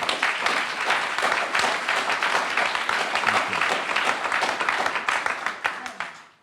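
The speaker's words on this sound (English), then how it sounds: "Let's give Janie a round of applause, too." Audience applause at a bill signing for the ABLE Act, a dense, lively round of clapping from a room full of people that holds steady, then thins and fades out at the close.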